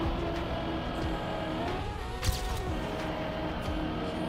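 A video game race car engine drones steadily, its tone rising and falling slightly, loud and unbroken across the whole stretch.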